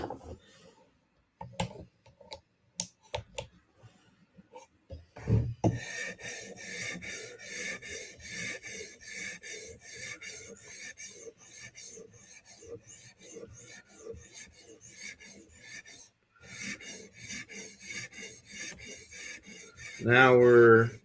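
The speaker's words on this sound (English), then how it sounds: "Now we're going to try to raise a burr with a 400 grit stone" Knife blade sharpened on a 400 grit stone, several scattered scrapes giving way to steady rhythmic rasping strokes, close and moderately loud, with a brief louder noise at the very end and no talk.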